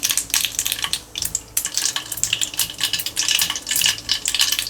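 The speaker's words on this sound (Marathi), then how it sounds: "आता फोडणी करूया" Mustard seeds crackle and pop in hot oil in a pan, a close series of irregular sharp spatters and sizzles.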